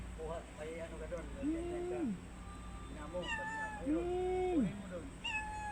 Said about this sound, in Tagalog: Bibigyan ko po yung pusa ng pagkain ay kawawa naman.